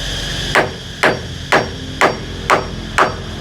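A hammer drives nails with six evenly spaced, sharp blows about half a second apart, close and loud over a steady low background hum, with no talking.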